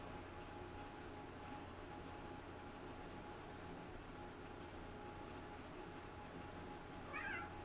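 A house cat gives a single faint meow near the end, heard over a steady low indoor hum, with no talking.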